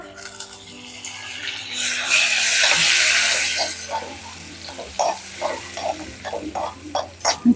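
Curry leaves hit hot tadka oil for a Maharashtrian dal tadka, bursting into a loud hissing sizzle that fades, followed by a run of short scraping stirs and crackles.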